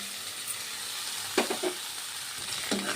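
Okra pieces frying in oil in a kadai, a steady soft sizzle with a few brief clinks and stirring bumps, close and fairly quiet, no talking.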